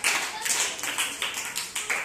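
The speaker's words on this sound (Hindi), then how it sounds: "इनके लिए ताली बजा दीजिए" A classroom of students claps together, with a quick, dense patter of many hands nearby that keeps going for a couple of seconds.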